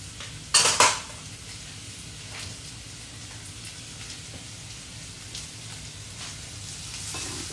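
Turmeric and salt being stirred into potatoes frying in a pan for aloo bhujiya, with a loud clatter of utensil against the pan near the start, then a steady low sizzle and faint scraping alone.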